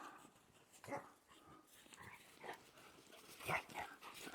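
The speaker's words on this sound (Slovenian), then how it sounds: "Norijo psi." Dogs bark and whimper in a snowy village, with several moderately distant, irregular barks spread out over a few seconds and no talking.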